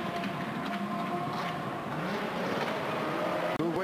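A Citroën C4 WRC rally car in asphalt setup and a Renault R26 Formula 1 car race side by side at the 2006 Race of Champions, engines screaming loudly and steadily with rising and falling revs and brief tyre noise.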